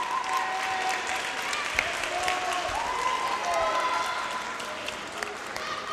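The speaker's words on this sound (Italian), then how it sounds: "Un applauso ancora ai giovanissimi dell'Accademia." A crowd applauds steadily at a Rimini Calcio youth academy club event at Centro Atlante, honoring the very young players. The clapping fills the room for several seconds, with some voices mixed in.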